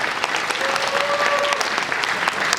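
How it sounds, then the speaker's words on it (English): Audience applause at a college freshers' social as new students stand at their seats, a steady, dense crowd clapping throughout with a faint whistle-like tone partway through. "Let us give them a big round of applause."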